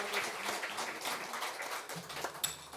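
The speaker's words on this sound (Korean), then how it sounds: "우리 하나님께 감사의 박수 올려드립시다." During a church service, the congregation applauds in a faint, continuous patter that holds steady for about three seconds.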